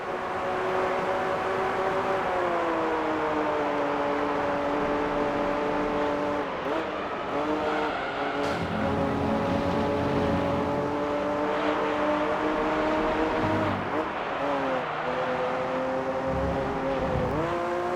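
A GT1 race car engine from the video game Gran Turismo 3 drones loudly and steadily, its pitch rising and falling with gear changes and throttle lifts throughout.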